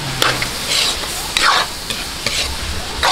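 Sautéed pancit bihon canton ingredients with fish sauce and pepper get stirred in a hot pan: steady sizzling broken by a few sharp scraping sweeps of the spatula, close and alone.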